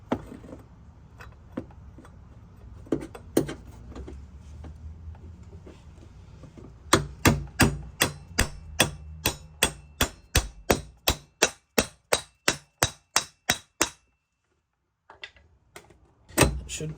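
Hammer blows drive a 12 or 13 millimeter socket onto a bolt head on a 1991 VW Jetta GL diesel: about a dozen and a half sharp, close metallic strikes in a steady, quickening rhythm, following a stretch of quieter handling noise.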